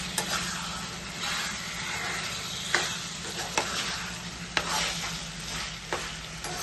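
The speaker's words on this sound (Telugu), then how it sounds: "ఇలా 5 నిమిషాలు మనం ఇలాగ చికెన్ని అల్లం పేస్ట్లో మగ్గబెట్టుకుందాం." Chicken frying in ginger-garlic paste in a pan for gongura chicken, with a steady close sizzle and a low hum beneath, broken by a few sharp spoon knocks and scrapes as it is stirred.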